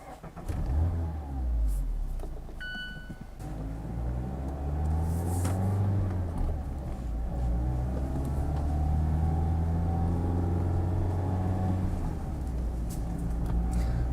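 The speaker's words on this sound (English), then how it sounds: "press the start button to go" A 2025 Mazda Miata Grand Touring starts with a brief whir, then its engine settles into a steady, close idle that runs throughout, with a short electronic chime early on.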